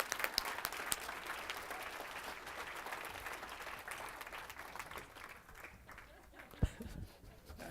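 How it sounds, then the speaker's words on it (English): An audience claps in sustained applause at a talk, a dense crackle of many hands heard fairly faint and at a distance, tapering off near the end with a few stray thumps. "please give a warm welcome and a round of applause to my brother"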